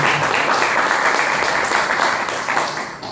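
A crowd applauds loudly and continuously, a thick wash of many hands clapping that tapers slightly at the end.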